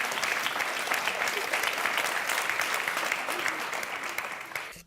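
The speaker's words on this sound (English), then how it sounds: "The audience clapping" An audience claps continuously, a dense, even burst of applause that fades slightly at the end.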